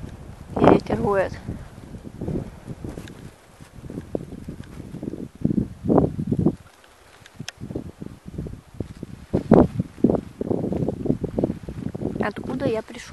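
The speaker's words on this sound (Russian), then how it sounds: "Ветер воет." Outdoor wind gusts roar and buffet the microphone in a rural village setting in April. Someone talks over the steady, rushing noise.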